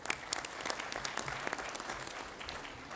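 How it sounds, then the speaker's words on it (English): A crowd at a CAF general assembly applauds steadily for a few seconds, dense overlapping claps at moderate loudness, with no one speaking. "Let's clap hands for them once more."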